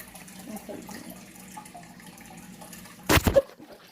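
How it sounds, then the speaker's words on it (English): An Eastern painted turtle is set into water, making one brief, fairly loud splash and slosh near the end after a few seconds of quiet indoor background. "I don't know if we should put him in the water"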